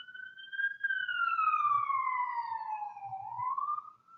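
An ambulance siren wails in a long, clear sweep, its pitch sliding slowly downward as it passes, then rising again near the end, loud and steady with faint low rumble beneath and no talk.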